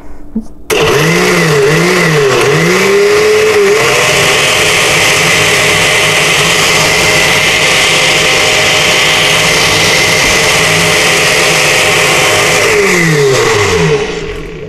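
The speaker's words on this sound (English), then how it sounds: "So everything goes in the blender, and then we just zhuzh it up" A blender motor whirs loudly and continuously while blending a lavender blueberry smoothie with vanilla, its pitch wobbling as it revs up at the start, then holding a strong steady roar before winding down near the end, with no talking.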